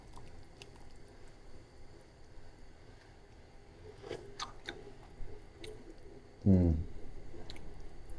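Someone chewing a mouthful of a shad sushi bowl seasoned with fermented soybean paste: soft, faint, wet chewing close by, ending in a louder brief thump.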